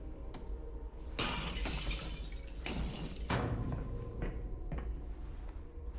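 Glass shatters in Half-Life: Alyx, a loud crash of breaking panes followed by a second burst and scattered tinkling fragments settling in a game environment.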